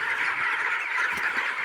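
A dense flock of broiler chickens, about three weeks old, fills a poultry farm shed with steady, overlapping clucking and chirping, continuous and fairly loud throughout with no voices.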